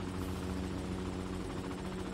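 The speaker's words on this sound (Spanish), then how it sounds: "Dios mío, colega. Helicóptero." A helicopter in the mobile battle royale game Call of Duty Mobile thrums steadily close by, a loud continuous rotor drone that fills the whole moment.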